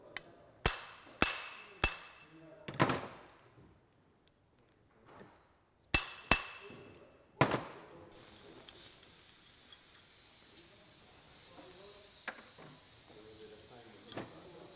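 A copper hammer strikes the end of a Honda Camino PA50 moped crankshaft fitted with a nut to drive out a bearing, giving seven sharp metallic taps in uneven pairs before a steady hiss takes over.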